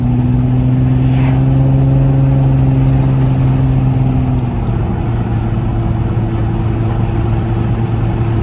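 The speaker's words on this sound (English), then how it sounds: "Just modest acceleration there, you know, just gives a little low growl." Low engine growl from a 2007 Infiniti G35 Coupe under modest acceleration, a steady loud droning hum whose pitch holds and then drops slightly as the revs ease, heard from inside the car with no talking.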